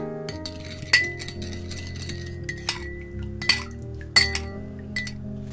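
A spoon clinks repeatedly against a glass bowl while a mixture of fish sauce, sugar, chili sauce and water is stirred, with sharp irregular taps over faint sloshing.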